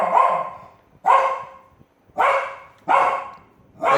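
A dog barks five times in a steady rhythm, each bark loud, close and echoing briefly in a room, with short pauses between and no voices.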